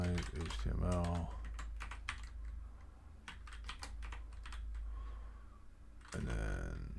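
Quick, uneven clicks of someone typing HTML on a computer keyboard, close by, in short bursts between pauses while a voice talks over it.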